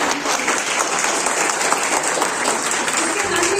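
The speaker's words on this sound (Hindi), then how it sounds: "तो एक बार सभी प्रतिभागियों के लिए तालियां" An audience at a school speech competition for Maharshi Dayanand Saraswati's birthday claps for the participants in a steady, full burst of applause, with some voices mixed in.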